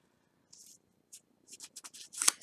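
Paper rustles and creases as one end is folded to make an envelope bow, a few soft, brief crinkles that grow into a quick cluster of crisp close-up rustles.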